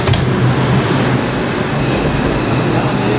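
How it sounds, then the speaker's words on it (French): A New York City subway train rumbles steadily and loudly throughout, a continuous low roar of wheels and car noise on the underground rails with no voices. "On va dans le métro."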